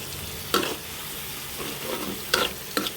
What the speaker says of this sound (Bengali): এখন এটুকু কষিয়ে নিব